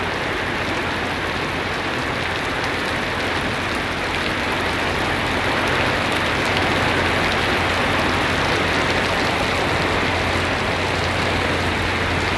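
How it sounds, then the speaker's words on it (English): Steady heavy rain pours down in a Florida thunderstorm, a constant broadband hiss with a low rumble beneath, dense and unbroken throughout, with no voices. "And now the rain is coming down out of this direction"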